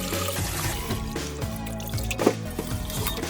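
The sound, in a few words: rinsing bean sprouts in cold water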